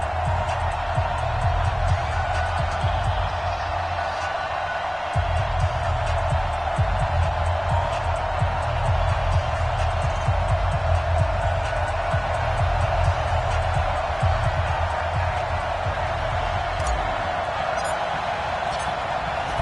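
Steady roar of a stadium crowd in a Pittsburgh Steelers versus Indianapolis Colts football video game on PS4, a continuous broad wash of cheering held at even loudness for the whole stretch.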